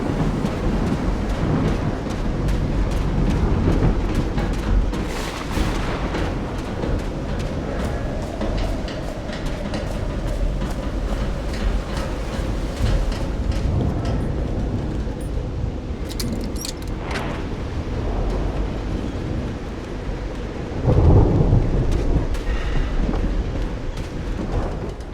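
Thunderstorm in the game Call of the Sea: steady heavy rain with low rolling thunder, dense and continuous, with a louder rumbling swell near the end and no voices.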